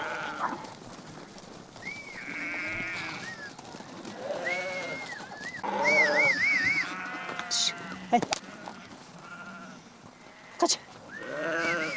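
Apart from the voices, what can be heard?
sheep and lambs bleating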